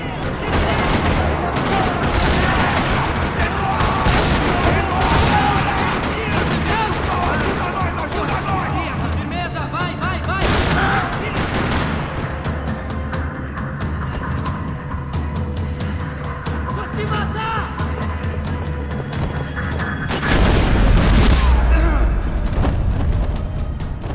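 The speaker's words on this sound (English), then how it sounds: "Another parking lot rattling with gunfire." Sustained gunfire and explosive bursts echo through a parking lot in the video game Max Payne 3, dense and loud throughout with a heavier boom near the end, under a bed of music and game ambience.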